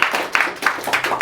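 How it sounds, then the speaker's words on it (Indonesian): A comedy show audience claps for the comedian Dany Beler in a short, close burst of a few sharp, irregular claps. "Boleh tepuk tangan buat Beler."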